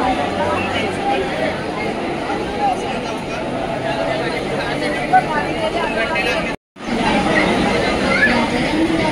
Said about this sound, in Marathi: गर्दीमध्ये लोकल फायनली सुटले आहेत, घबराट गर्दी।